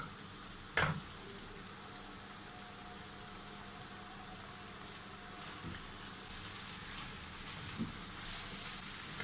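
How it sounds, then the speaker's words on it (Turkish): Lentils roasting in a pan with tomato paste make a quiet, continuous sizzle and hiss. A few soft knocks from stirring break in, one sharper near the start. "güzel kavuralım mercimekle"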